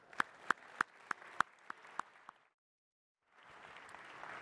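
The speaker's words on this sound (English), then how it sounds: "So give a round of warm applause and welcome to John Smith." A few sharp, separate hand claps ring out close by at a corporate operations-center conference opening session, then a second of silence, followed by softer, steadier applause from the audience welcoming the next speaker.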